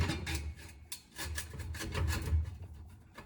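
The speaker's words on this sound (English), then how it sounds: "So we put our clamp on." Metal exhaust clamp being fitted onto a Flowmaster FX straight-through muffler, giving a series of close scraping, rubbing rasps with a few duller knocks, heard alone over about three seconds.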